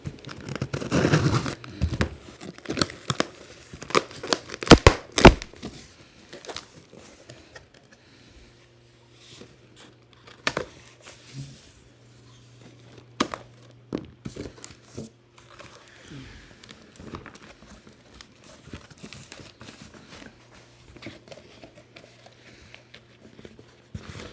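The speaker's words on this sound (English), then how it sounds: "we're just going to want to remove some of the tape so we can get the box open" Packing tape tearing and peeling off a cardboard box holding a Cowboy Studio 2275W three-softbox light kit, with loud crackly rips and crinkles early, then sparser tugs and rustles under quieter stretches and a faint steady hum.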